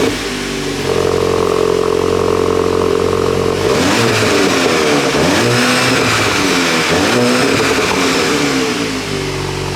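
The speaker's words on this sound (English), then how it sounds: "So a lot more of a deeper, throatier exhaust, which is something that this vehicle desperately needed" A 2022 VW GTI engine holds a steady idle, then revs up and down several times with a deep, throaty exhaust note. Loud and close, with no talk.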